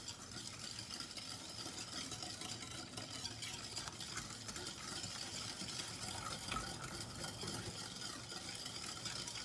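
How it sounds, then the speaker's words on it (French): A whisk beats batter for a cake made with one egg and no oven. The stirring is steady and continuous, a soft, fairly faint swishing with no talking over it. "pour mélanger, vous avez vu, j'ai pris le fouet"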